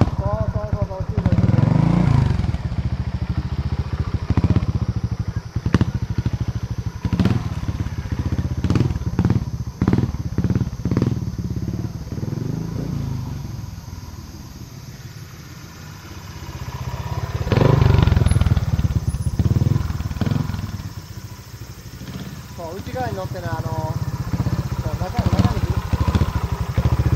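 A trials motorcycle engine idles while the throttle is blipped again and again, giving sharp revving bursts and thumps up close, with a person talking over the engine throughout.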